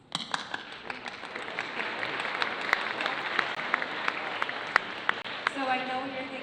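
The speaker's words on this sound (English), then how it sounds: "I want to give you a round of applause." An audience applauds at a spring school concert: a dense, steady round of clapping for several seconds with some sharper individual claps, and voices faintly underneath.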